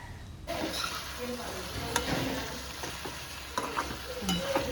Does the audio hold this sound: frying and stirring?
yes